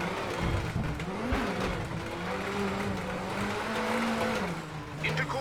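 A rally car engine in the racing game WRC 8, on a Wales GB stage, drones steadily as it revs and shifts gears with wavering pitch, accompanied by gravel and road rumble throughout.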